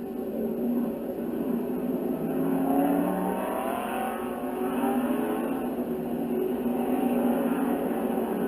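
Race cars, including a white GT1 Corvette, roar around the Hallett Motor Racing Circuit in lapped traffic, a steady loud engine drone with shifting pitch as cars pass, no voices.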